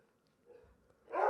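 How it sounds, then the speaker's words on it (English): A dog named Loki barks once at home, a short sharp woof near the end after a soft whimpery murmur, fairly faint and in the background. "Excuse the barking."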